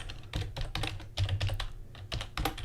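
Typing on a computer keyboard while coding a debug log statement: a close, steady run of quick key clicks in an irregular rhythm, with no talk.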